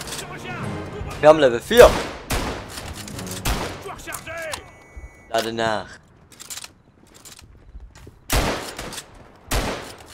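Gunfire in the World War I shooter Verdun, sharp bursts of shots and loud blasts in irregular clusters, heard under excited German voices.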